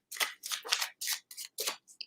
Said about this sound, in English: while I shuffle and get the cards